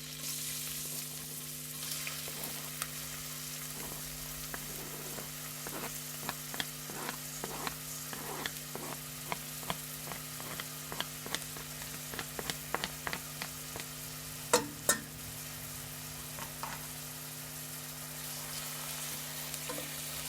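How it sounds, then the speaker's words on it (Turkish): Onions and garlic sizzle and crackle in hot oil, with steady frying noise and occasional sharp pops and scrapes from stirring. "Isınan sıvı yağıma soğan ve sarımsaklarımı yemeklik doğradım ekliyorum."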